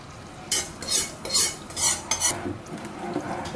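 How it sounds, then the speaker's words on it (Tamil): Ghee Mysore pak batter of besan flour being stirred continuously in a pan, with a series of close scraping strokes of the spoon against the pan and a soft bubbling underneath. "இந்த ஸ்டேஜில் வந்து நீங்கள் 1 நிமிஷம் கூட கைவிடாமல் இதை கலக்கிட்டே இருக்கணும்"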